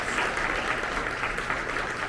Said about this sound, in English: This is a big deal, so round of applause